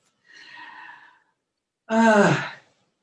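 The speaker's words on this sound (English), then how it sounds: "Take a deep breath." A deep breath taken during qigong practice: a soft drawn inhale, a short pause, then a louder, fuller voiced exhale like a sigh, close and alone.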